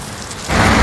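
Heavy rain pours outdoors in a steady broadband hiss that suddenly grows louder halfway through, with no voices.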